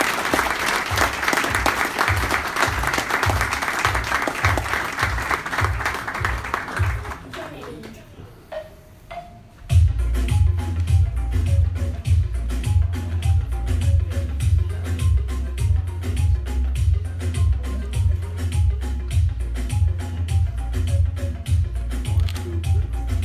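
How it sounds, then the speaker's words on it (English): Award recipients from a Chamber of Commerce are greeted with loud, sustained applause from a crowd, which briefly dips then swells again with rhythmic clapping and some cheering. "Give them a round of applause."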